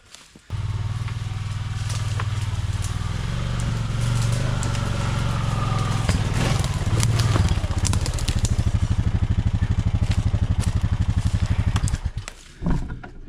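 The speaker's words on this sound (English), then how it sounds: "let's go get the four-wheeler" A four-wheeler ATV engine idles and runs steadily in a fern-filled woodland, a close low rumble that holds for most of the clip before cutting off, with faint crackling of brush around it.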